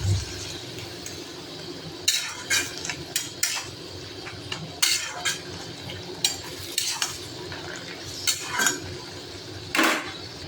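Tender young bottle gourd greens stirred in a pan for a lau shak chutney, with scattered scraping clinks of a utensil against the pan over a faint background, no talking.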